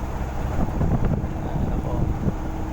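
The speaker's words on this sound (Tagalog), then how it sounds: "Sa lakas ng hangin po dito sa amin" Strong typhoon wind from Typhoon Quinta (Signal No. 3) roars steadily in an area where many banana trees have been toppled, loud broadband rushing and buffeting across the whole clip with no clear speech.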